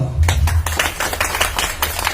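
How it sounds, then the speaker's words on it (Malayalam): An audience at a Christmas celebration claps together, a steady patter of many hands filling the space with a few low thumps near the start, with no talk over it. "ഇതിന് സ്വാഗതാർഹമായ ഒരു കയ്യടി എല്ലാവരും നൽകുക"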